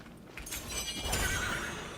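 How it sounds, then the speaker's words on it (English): A summoned horse in the video game Genshin Impact lets out a short whinny, a fairly faint, rising neigh with a light scuffle of movement, heard alone. "You can just summon horse all the time."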